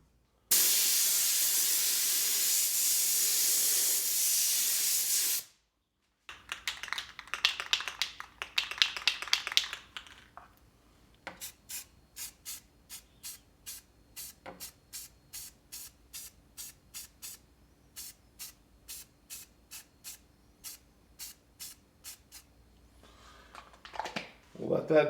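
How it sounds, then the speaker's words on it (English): A spray can hisses continuously for about five seconds while painting a workpiece clamped on a CNC router, followed by handling noises and a long run of quick, evenly spaced ticks. "I'm going to paint it actually right there on the machine"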